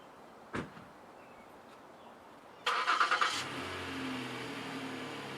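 At a trailer park, a car engine cranks briefly and fires up, then settles into a low steady idle before backing up to hook a camping trailer; a single sharp click sounds earlier, and the scene is otherwise quiet.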